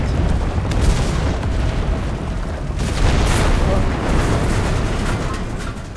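Explosions sound in the World War II shooter game Enlisted, with heavy booming blasts and rumbling battle noise layered over a player's talk.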